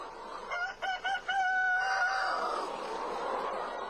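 A rooster crows loudly and close by, a stuttering start followed by a long drawn-out call, with hens clucking in the background.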